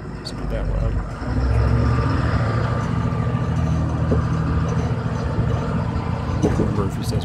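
A Thomas C2 school bus with a stick shift runs with a steady low diesel drone that rises slightly after the first second and holds for seven seconds, close and moderately loud, with a person talking over it.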